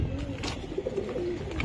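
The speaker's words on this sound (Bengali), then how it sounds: "এটা লাল চান্দি চুটাল কবুতর ভাই" A red-crowned pigeon of a high-flying breed coos in a steady series of soft, throaty warbles close by, with faint background murmurs and no clear speech.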